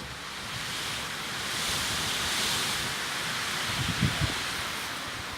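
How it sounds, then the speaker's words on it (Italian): Strong wind blowing outdoors around a partly abandoned building, a steady broad roar buffeting the microphone and swelling midway, with a few low gusty thumps near the end. "Guardate che vento, come dire."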